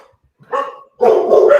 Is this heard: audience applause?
no